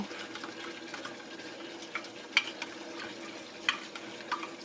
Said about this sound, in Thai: ใส่น้ำร้อนเข้าไปนิดนึง